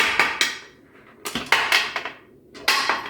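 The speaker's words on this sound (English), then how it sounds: "you're going to be undoing the latches the same way you put them in, is a little bit at a time, across from each other" Metal latches on a pressure canner lid being worked loose one at a time, giving several sharp close clanks and ticks spaced out over a few seconds, with no talking.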